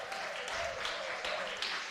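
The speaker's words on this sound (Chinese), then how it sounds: "我们用拍手欢迎他们" Church congregation clapping to welcome a visiting church during a Sunday service, a faint, continuous patter of applause from a crowd heard at a distance.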